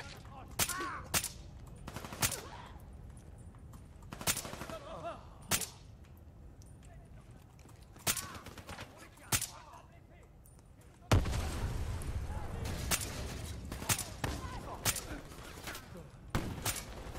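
A trap firing in Call of Duty Black Ops 3 snaps out sharp, spaced gunshots that crack again and again, some doubled, over a low hum that grows louder and fuller partway through.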